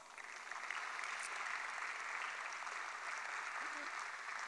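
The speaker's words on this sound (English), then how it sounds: "please give them a round of applause" The crowd at an indoor tennis center dedication ceremony applauds the tennis community, a broad, even wash of clapping that swells slightly and holds steady, with a faint murmur of voices underneath.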